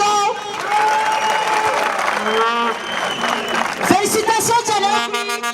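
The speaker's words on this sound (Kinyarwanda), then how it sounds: "Mwahaye amashyi Skol." A crowd at a Rayon Sports fan event applauds for Skol, loud and sustained, with a voice and music carrying over the clapping.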